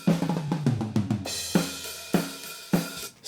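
A thrash metal drum kit heard through stereo overhead mics: a quick run of tom hits, then spaced snare and kick hits ringing with splashy cymbal wash, close and alone.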